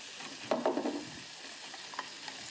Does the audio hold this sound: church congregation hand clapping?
no